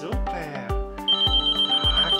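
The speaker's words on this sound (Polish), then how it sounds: "gdy słychać dźwięk dzwonka czy pukania do drzwi." A doorbell ringing repeatedly indoors during a dog training session, a rapid series of bright chiming tones with strong, regular strikes, loud and close, with some voice-like sound mixed in.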